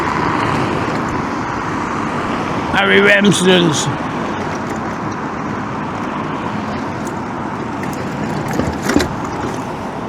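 Rush hour traffic on a Blackpool road rumbles steadily nearby while someone speaks briefly over it, and a passing vehicle adds a louder swell and a few clanks partway through.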